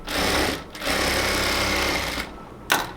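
A sewing machine runs in long steady bursts while stitching elastic into a salwar waistband, pausing briefly before a short final burst; loud and close, with no talk.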